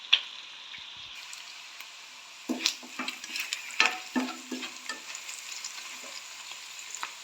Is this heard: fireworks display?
no